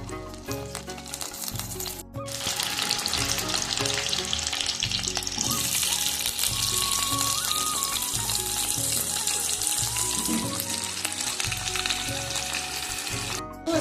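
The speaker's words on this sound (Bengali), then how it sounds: "একটু আলুগুলোকে ভেজে নেবো" Potatoes frying in a couple of tablespoons of oil in a pan, a loud continuous sizzle with crackling and occasional stirring scrapes throughout, close up.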